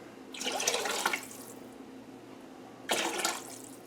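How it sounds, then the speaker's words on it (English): Filtered water poured into a pot for soup, heard as two separate close pours of about a second each with a quiet gap between them and no talking. "I'm going to add me some filtered water because we don't like city water."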